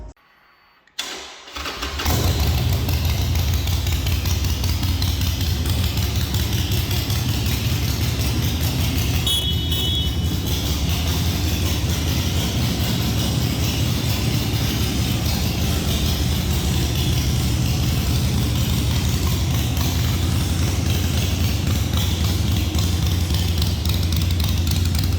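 A Harley-Davidson Roadster 1200 motorcycle with an aftermarket exhaust starts and settles into a steady, loud, close rumbling idle that continues without a break.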